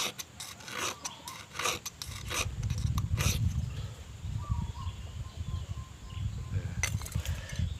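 Hand file rasping on a small steel fishing hook made from a bicycle brake spring, repeated strokes in a quick rhythm, close and clear, with a pause and some softer scraping before the strokes resume.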